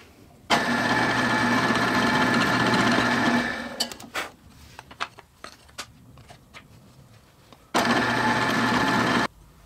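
A power drill boring holes in a half-inch wood piece whirs loudly for a few seconds, then stops amid light clicks and knocks before spinning up again for another short run.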